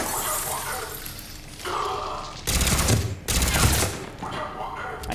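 Bursts of gunfire from Mass Effect 3 co-op multiplayer, with two loud sustained volleys of rapid shots in the middle of the clip set against a steady game background, and a voice talking in places.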